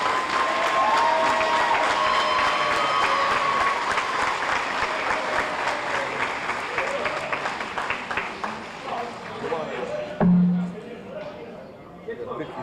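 A hall crowd at a musicians' hall of fame induction gives sustained, dense applause with some cheering, loud and steady for about ten seconds before tapering off as a voice speaks over the fading claps.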